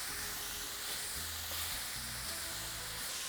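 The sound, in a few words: fajita vegetables sizzling while being stirred in pan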